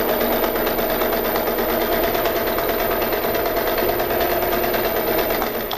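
A sewing machine stitches elastic onto a fabric face mask, giving a close, continuous rapid whirring with a fine, even mechanical rhythm and no talking.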